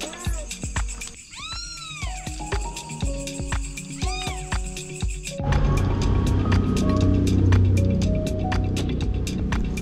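Several rescued kittens meow repeatedly, close and loud, as a run of high rising and falling cries overlapping one another, with a noisier stretch in the second half where the mewing continues over a rougher background.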